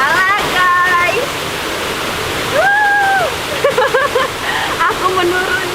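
Jagasatru waterfall in Bali gives a steady rushing wash of falling water throughout, heard close, with a person talking over it.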